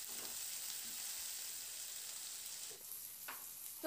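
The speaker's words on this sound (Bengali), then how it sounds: "এবার টমেটোটা দিয়ে 2 মিনিট মতো একটু নাড়াচাড়া করে নেব পেঁয়াজের সাথে।" Chopped tomatoes and onions fry together in a pan for an egg and brinjal dish, giving a soft, steady sizzle with a couple of faint stirring scrapes and no talking.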